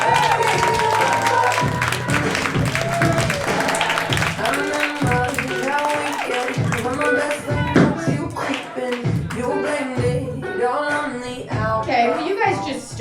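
A comedy club crowd applauds and cheers as the headliner is introduced, dense sustained clapping mixed with whoops and voices and an emcee talking over it, loud throughout.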